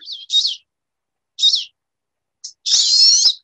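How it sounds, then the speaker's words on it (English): A pair of male birds giving clear, high rising slurred zip calls, heard in four short, separated bursts against silence, the last one longer and fuller, close and clean with no talk. "a diagnostic sound is the uprising slur that the males make zip"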